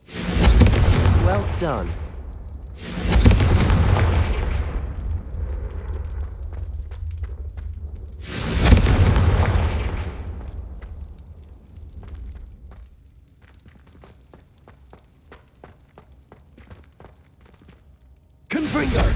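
Booming fire-spell blasts from the Hogwarts Legacy video game's Confringo curse, a few loud broadband bursts spaced seconds apart with a final one at the end, between stretches of quieter game ambience and brief talk.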